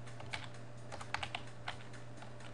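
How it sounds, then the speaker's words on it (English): Computer keyboard keys tapped in a short, light burst while typing a website keyword, a handful of soft clicks over a low steady hum, no one speaking. "we want to go up here and type in Bethany"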